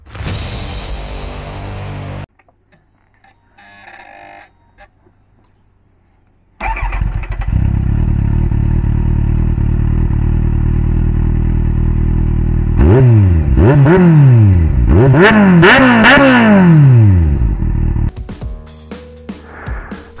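A 650cc Kawasaki Z750 motorcycle engine cranks and starts, settles into a steady idle, then revs in several rising and falling bursts before dropping back to idle, loud and close.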